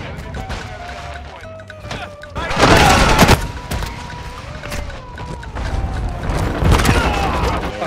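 Bursts of automatic gunfire with loud booms and crashes from a Modern Warfare II match, clustering in two heavy volleys amid constant battlefield clatter, with a voice talking over it.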